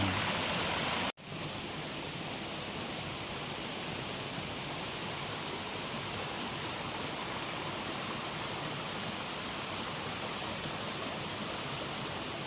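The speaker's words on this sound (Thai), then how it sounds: "ก็มีน้ำที่หล่อเลี้ยงลำธารแล้วนะครับท่านผู้ชม" Steady, gentle rushing of a shallow forest stream, an even hiss that continues unbroken after a brief cut near the start, with no voices.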